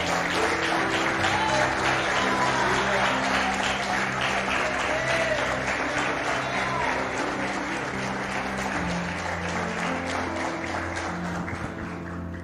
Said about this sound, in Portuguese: Você pode aplaudir Jesus, porque Ele é bom, poderoso.